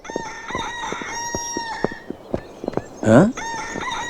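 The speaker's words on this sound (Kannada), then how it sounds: "ಏನಯ್ಯ ಇದು ಕೋಳಿ ಶಬ್ದ? ಕೋಳಿ ಅಲ್ಲಪ್ಪ, ನನ್ನ ಮೊಬೈಲು." A phone ringtone plays a rooster crowing, with tonal chimes and sharp clicks leading up to one loud crow near the end.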